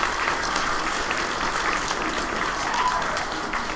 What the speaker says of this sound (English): Can we say thank you by giving them a round of applause?